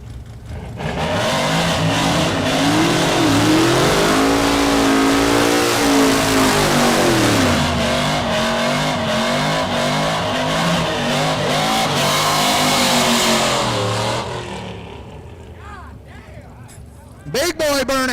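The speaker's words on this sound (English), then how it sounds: "Big boy burnouts, baby." Pickup trucks do burnouts at an all-truck no-prep drag race at Newport Raceway, engines roaring and revving hard with rising and falling pitch for over ten seconds, loud and near, then dropping off with an announcer talking over it.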